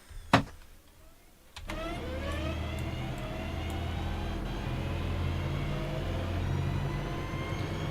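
In the Train Simulator Classic game, a Birmingham Cross City Line electric train pulls away and accelerates. A loud rising motor whine climbs steadily in pitch over a continuous rumble after a brief sharp click near the start.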